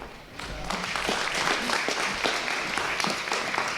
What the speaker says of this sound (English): And a round of applause for Joanne and all that she does for this program